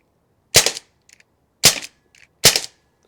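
Three sharp, loud shots from a SIG MCX Canebrake airgun, evenly spaced about a second apart, each a crisp crack with brief faint mechanical clicks between.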